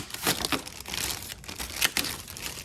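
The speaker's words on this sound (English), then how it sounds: "let's just go ahead and take the plastic off" Protective plastic film is peeled and crinkled off a new aftermarket Alpharex Pro Series headlight for a Ford F150, making close, continuous crackling and rustling with sharper tearing bursts.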